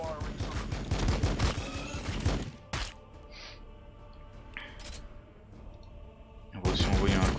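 Rapid bursts of gunfire from the Warhammer 40k Battlesector video game, a dense fusillade opening the clip, then a quieter lull with scattered distant shots before another loud volley erupts at the end.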